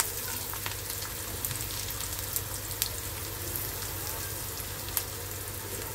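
Onions frying lightly in hot oil in a pan for a tempering, a continuous close sizzle with scattered sharp pops and crackles, no voices.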